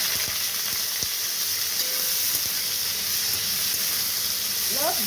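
Boiled, chopped cauliflower stems fry in a pan after a mustard-seed tempering, giving a dense, constant hiss of sizzling oil with a few faint taps of a spatula.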